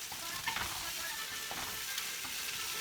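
Onions sizzle in a pan as the start of a chicken lasagna, with a steady broadband crackle that runs the whole time, quiet and even, a few faint stirring scrapes and no talk.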